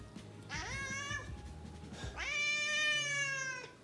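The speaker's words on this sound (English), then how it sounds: "She's still meowing though." A cat meows twice indoors, a shorter call followed by a longer, louder drawn-out meow, both close and clear over a low background hum.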